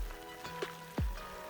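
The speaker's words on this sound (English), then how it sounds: "So this is what it looks like to hike in the rain." Light rain falling on the Appalachian Trail during a spring hike makes a faint, steady patter; a brief chirp and a low thump stand out over it.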